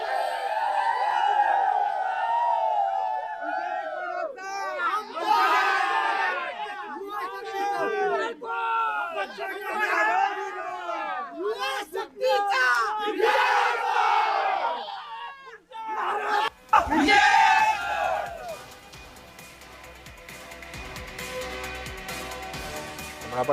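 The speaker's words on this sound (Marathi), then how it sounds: "शड्डू ठोकून उमेदवार हे जल्लोष साजरा करताना आपण दृश्यांमधून पाहतोय." Crowd of BJP supporters celebrating a Zilla Parishad election win in Panvel, Maharashtra, loud rhythmic chanting and cheering voices near the microphone for about sixteen seconds, then a sudden shift to more distant, noisier crowd sound.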